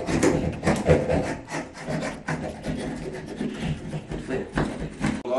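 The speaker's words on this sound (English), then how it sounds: "So we've taken all the grout out, all the old grout." Old grout is scraped out between shower tiles with a hand tool, close, rough, raspy strokes repeating in an uneven rhythm.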